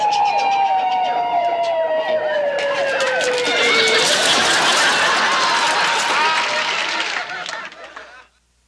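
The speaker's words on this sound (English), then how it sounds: "Man, it was an ambulance" An ambulance siren wails loudly, its pitch sweeping down as it passes close along a street, then fades away as it recedes.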